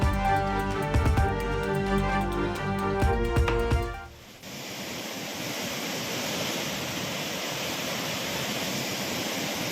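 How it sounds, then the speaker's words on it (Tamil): Floodwater of the Kaveri River rushes at Hogenakkal, a dense, steady roar of churning water that takes over after music fades out and holds on evenly and loudly to the end, with no voices. "ஒகேனக்கல் காவிரி ஆற்றில் கடும் வெள்ளப்பெருக்கு."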